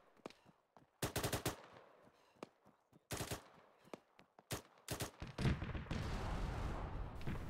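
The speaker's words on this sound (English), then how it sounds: "We're under fire from an autocannon southwest." Autocannon fire in the video game Arma comes in loud rapid bursts of heavy gunfire separated by short pauses, ending in a sustained roar of continuous shooting and rumble; no speech.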